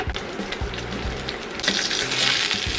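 A steak seared at maximum heat in a pan with avocado oil begins with a few pops and crackles, then breaks into a louder, sustained sizzle and hiss, with no one talking.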